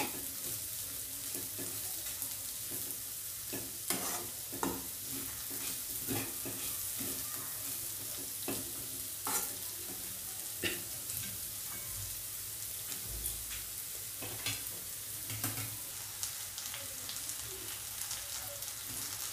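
Masala for a fish-head murighonto sautés in a pan, a steady sizzle with repeated scraping stirs and soft clinks of the spatula, close and continuous.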